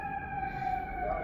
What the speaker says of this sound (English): see an ambulance?